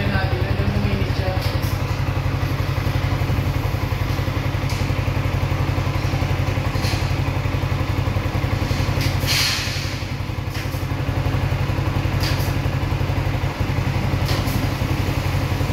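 A 2023 Yamaha Sniper 155R motorcycle engine idling loud and close with a steady low throb and a rhythmic clatter, a strange mechanical noise, while people talk over it.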